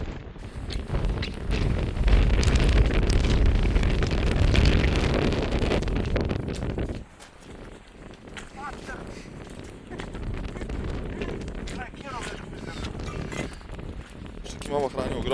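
Wind and rain roar outdoors on Iceland's south coast, heavy buffeting on the microphone for the first half before easing to a lighter rush, with people talking beneath it.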